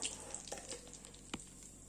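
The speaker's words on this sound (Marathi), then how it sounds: "आता ह्याच्यामध्ये रवा घालून घेऊयात हा सगळा." Semolina roasting in ghee in a pan over a low flame gives a faint, steady sizzle and hiss, with soft scraping stirs and one brief knock close by.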